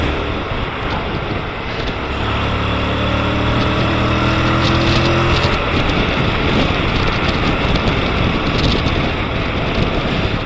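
A 2017 Honda X-ADV 750 ridden in sport mode on fresh tyres: a steady close engine drone with rising and falling harmonic tones as it accelerates through corners, heavily buffeted by wind rush across the whole stretch.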